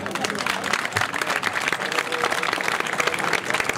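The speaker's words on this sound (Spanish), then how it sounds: "nos podemos despedir con un aplauso muy fuerte" A group's loud, sustained round of clapping at a farewell gathering, dense and continuous throughout, with some voices mixed in.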